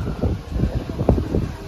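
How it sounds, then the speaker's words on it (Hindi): Strong evening wind gusts at a riverside resort in Kolaghat buffet the microphone with a low, rough rumble that rises and falls for a couple of seconds. No voices are heard. "इतना तेज़ हवा चल रहा है ना"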